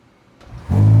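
A Ferrari SF90 hybrid supercar's twin-turbo V8 fires up from electric mode: a faint whir, then an abrupt loud, close engine catch settling into a deep steady idle rumble.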